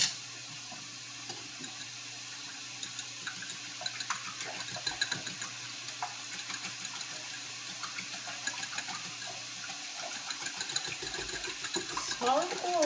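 Eggs whisked in a small bowl for fried rice in a home kitchen, giving a fast, steady clicking and sloshing that runs throughout, close and moderately quiet, with soft kitchen noise underneath.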